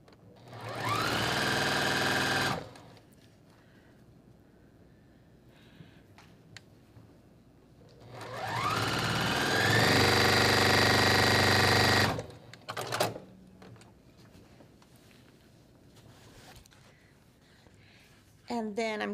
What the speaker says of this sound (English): Sew these together.